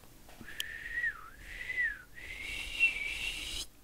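A person whistles a single wavering tune alone, thin and fairly quiet, with the pitch dipping and rising over a few seconds and jumping higher near the end before stopping.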